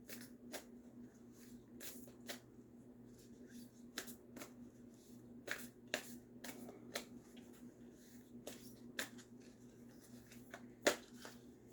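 A Work Your Light oracle card deck is shuffled quietly and close up, producing a run of soft riffles and sharp flicks over a low steady hum.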